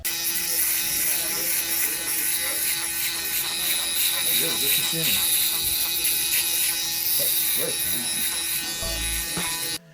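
A steady, high-pitched electric shaver with a 10,000 RPM digital brushless motor, rated at 79 decibels, buzzes continuously at close range, with faint low voices and scraping beneath the whine.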